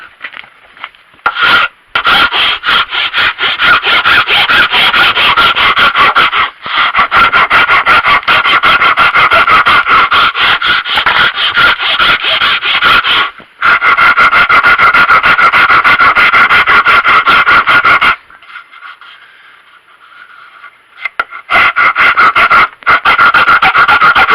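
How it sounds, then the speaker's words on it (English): Steady, loud rasping of a coarse rasp filing a wooden marking gauge, long continuous strokes with a few short pauses and a quieter stretch near the end, no talking. "Next thing, we need to work on it with a rasp."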